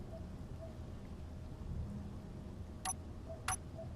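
Steady rain falls in the Space Engineers video game, a soft continuous hiss at low volume, broken near the end by two brief sharp clicks.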